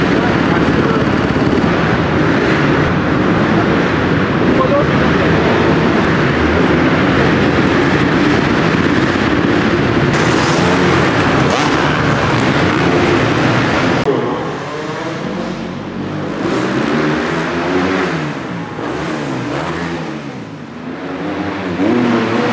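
Dirt bikes on an indoor supercross track roar nearly continuously in loud, dense engine noise, with revving swells and rising and falling pitch as the bikes accelerate and pass, heard up close.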